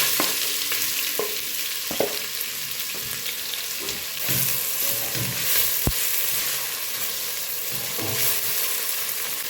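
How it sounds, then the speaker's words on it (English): White onions frying in oil infused with coriander, a continuous close sizzle broken by scraping stirs and a few sharp utensil knocks, no talk. "I'm going to add in the onion. These are white onions."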